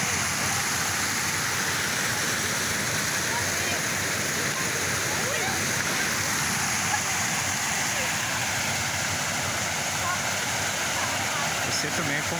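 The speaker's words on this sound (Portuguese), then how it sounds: "muitas pessoas vêm aqui às cachoeiras para apreciar as maravilhas e tomar um banho com essa água que é muito refrescante" The waterfall at Sítio Uirapuru in Baturité, Ceará, pours as a continuous broadband roar of falling, splashing water, steady and fairly loud for the whole stretch.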